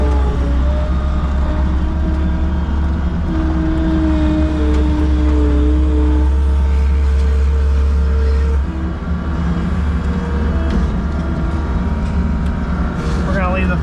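A farm vehicle tows a trailer carrying a tote of grain between farms, its steady low engine drone running loud and close throughout while a voice talks over it.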